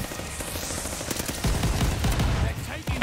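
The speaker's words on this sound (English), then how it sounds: "I hear shotguns going crazy at B" Gunfire from Call of Duty: Vanguard on the Shipment map, dense overlapping bursts of shots crackling loudly throughout, with sharp reports thickening midway and continuing to the end.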